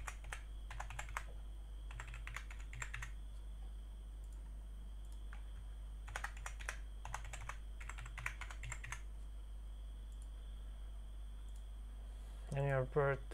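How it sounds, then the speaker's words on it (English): Typing on a computer keyboard: short clusters of quick clicking keystrokes separated by pauses over a steady low hum, with a brief voice near the end. "So you're gonna type your name. And type your password."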